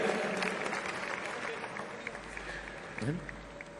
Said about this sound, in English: Let's have a bigger round of applause